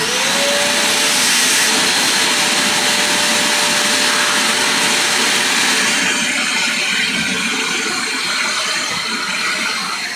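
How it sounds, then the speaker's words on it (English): Vacuum cleaner running continuously close by while cleaning behind a TV, a loud steady whine and rushing airflow with a rising tone at the start, no talk. "I'm gonna quickly vacuum the back of my TV while I'm here. So, forgive the vacuum sounds"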